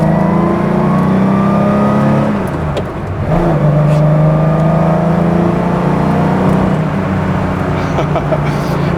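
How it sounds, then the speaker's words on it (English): A Porsche restomod engine revving hard while driving, loud and close, its pitch climbing and falling through gears with a brief dip midway before the strong engine note returns. "let's push some revs"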